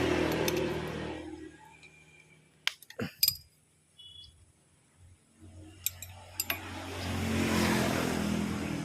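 A motorcycle engine after valve clearance adjustment, with valves set too tight, runs with a low steady drone, cuts out into near silence punctuated by a few metallic clinks and ticks, then starts again and runs steadily.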